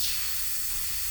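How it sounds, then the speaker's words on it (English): Pressure hisses out of the brake system of a Jaguar S-Type car as a bleed fitting is loosened, a steady broadband hiss that stays close and even with no talk. "So just releasing the pressure."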